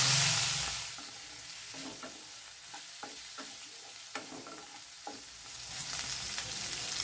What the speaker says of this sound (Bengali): এখন এই চিংড়ি মাছটা আমি এর মধ্যে দিয়ে দিচ্ছি